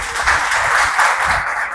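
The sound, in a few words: audience applause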